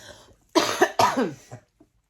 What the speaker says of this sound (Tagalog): Talagang inuubo pa talaga ako.